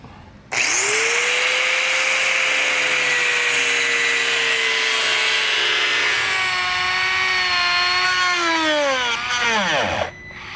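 A power tool cutting trim marks into a 2022 Jeep Wrangler bumper, a loud, close whine that holds a steady pitch for about nine seconds, then slows and drops as the tool winds down, with no talk.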